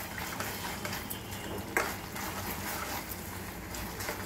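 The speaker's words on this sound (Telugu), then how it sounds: "ఇప్పుడు ఈ స్టేజ్లో కొంచెం నెయ్యి వేసుకున్నాము" Semiya halwa sizzles in a pan after ghee is added, a continuous close frying hiss with a soft stirring scrape and one brief sharper clink midway.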